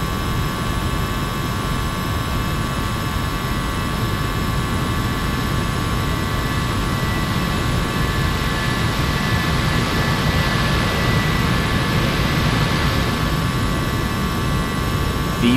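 Simulated Airbus A320 jet engines roar loudly and steadily during a takeoff from LaGuardia in X-Plane 11, a dense continuous rumble with a thin tonal whine held throughout.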